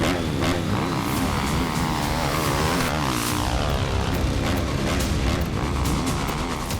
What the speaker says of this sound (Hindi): वॉर जोन में अचानक गूंजती है कई मोटरसाइकिल की आवाज।